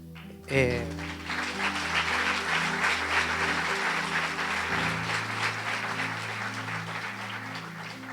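A church congregation applauds during a sermon, a broad wash of clapping rising sharply and holding steady under sustained keyboard chords.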